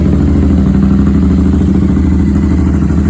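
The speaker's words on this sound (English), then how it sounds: "So this is the first time firing up the bike with the new exhaust." Royal Enfield Interceptor twin motorcycle engine running with a new aftermarket exhaust, a steady loud low rumble with a pulsing idle that holds even throughout, close and alone with no talk.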